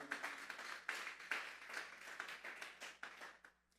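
A church congregation claps together as an offering of praise to God, a brisk and fairly even run of hand claps that fades out at the end.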